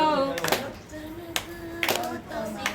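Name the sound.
hands clapping along to a devotional bhajan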